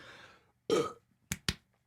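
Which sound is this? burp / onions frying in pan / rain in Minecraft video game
burp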